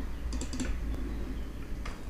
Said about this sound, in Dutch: En dan klikt u op Ctrl-V op uw toetsenbord voor te plakken.